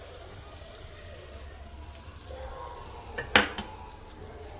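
Spoon stirring a Gujarati-style pickle after the cooled tempering is poured in, giving a few sharp metallic clinks and scrapes against the container, close and fairly quiet, with no talking.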